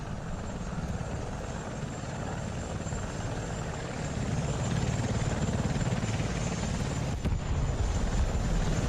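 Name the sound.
helicopter in a multicrew tank combat video game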